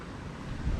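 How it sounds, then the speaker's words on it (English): Wind gusting across the microphone on a hillside in Snowdonia, a brief, full, rumbling buffet that grows louder toward the end. "the vertigo's gone and the wind's back"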